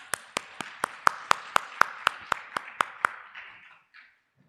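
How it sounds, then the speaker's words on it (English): About a dozen evenly spaced, crisp claps ring out one after another at a conference memento presentation, clear and fairly close with a short reverberant tail, then fade to silence. "Can we have a huge round of applause?"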